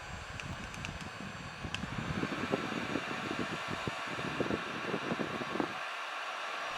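A heat gun set on high runs continuously, its fan giving a loud, steady rushing roar of airflow close to the microphone, with faint clicks and rattles at the start and the noise dropping away near the end.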